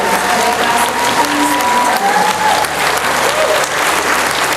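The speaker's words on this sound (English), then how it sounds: "One more round of applause for these outstanding graduates of the class of" An audience at a school honor breakfast gives a sustained round of applause for the class of 2017 graduates, a loud, even clatter of many hands filling the room.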